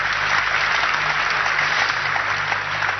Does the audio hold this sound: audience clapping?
yes